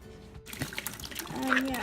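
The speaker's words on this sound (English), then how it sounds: "I'm putting in warm water to make it up to 3 cups" Warm water pouring into sourdough starter in a kitchen, a steady liquid trickle and splash that builds toward the end, with someone speaking over it.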